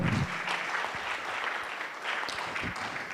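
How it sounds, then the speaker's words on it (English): Audience applause at the close of a panel session at an Earth observation conference, a dense, steady wash of many hands clapping that stays at a fairly even level throughout, with no talking over it. "Let's give them another round of applause"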